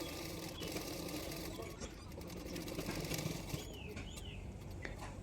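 A sewing machine stitches along the edge of extra fabric on a blouse, a faint, steady rapid mechanical whirr continuing alone throughout.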